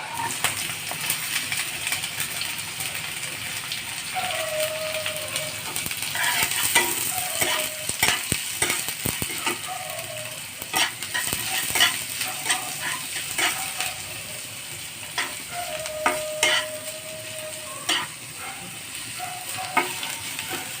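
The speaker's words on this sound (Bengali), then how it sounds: "পেঁয়াজটা দিয়ে দেবো।" Onion fries in hot oil while being stirred in a pan, a continuous sizzle with repeated scraping and clinking spatula strokes and occasional squeaks of metal, heard up close and with no talking.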